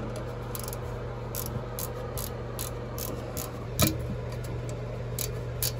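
A wrench turns a bolt during a commercial bathroom repair, giving a run of rapid, evenly spaced ratcheting clicks over a steady hum, with one sharper clank partway through.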